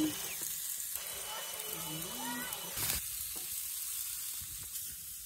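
Chicken thighs on a home grill give off a soft steady sizzle with faint crackles, quiet and close, while brief scraping and handling noises break in midway.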